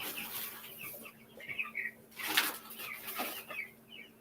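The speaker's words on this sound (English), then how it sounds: "So that's what you hear, the meat birds." Two-week-old meat bird chickens give soft, scattered cheeps and clucks at moderate distance, a few brighter calls rising over a low steady hum of the enclosure.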